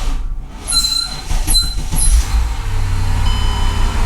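A flood-damaged 2004 Mercedes CLK500 V8 cranks and starts with several sharp, high squeals over a deep rumble, then settles into a loud, steady idle close by.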